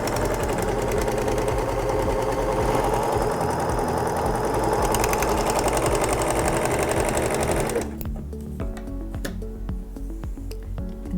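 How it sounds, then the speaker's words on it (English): A Singer S0230 Making the Cut serger runs a three-thread rolled hem, a loud, fast continuous mechanical whir close by that drops off near the end into lighter ticking and clicks. "Now we're going to place our fabric in front of the presser foot and step on the foot control to start sewing."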